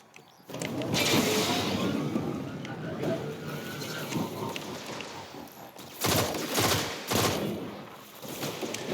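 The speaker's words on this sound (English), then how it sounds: "So I've got a pulse rifle on right now. As I mentioned before, it's a primary weapon. It does a 3-round burst." Pulse rifle in Destiny 2 firing repeated three-round bursts, loud clustered gunfire cracks in a game scene with ambient noise, over someone talking.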